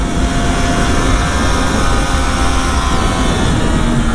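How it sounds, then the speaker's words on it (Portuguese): Loud, continuous engine drone from a 2009 Triumph Daytona 675 sport bike on its stock exhaust, heard close and unbroken for the full stretch with no voices. "o ronco que essa moto tem"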